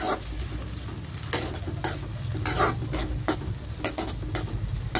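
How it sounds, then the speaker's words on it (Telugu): Dried red chillies, slit green chillies and curry leaves sizzle and crackle steadily in hot oil while being stirred, with loud scraping strokes recurring about every second, close up and with no talking. "వేసేసి వీటిని బాగా వేయించేసుకున్నాము."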